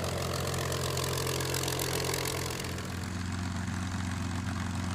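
Warbird propeller aircraft at an air show, including a P-40 Kittyhawk, a P-51 Mustang and a radial-engined Corsair, with a steady, loud droning engine roar that holds throughout and eases slightly toward the end.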